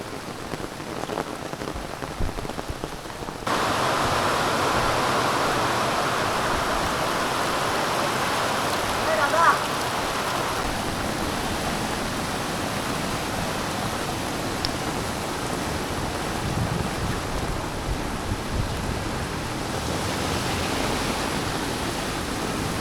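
Heavy rain pours down steadily on a ghat road near Jawhar in a dense, continuous hiss, loud and unbroken throughout, with no voices.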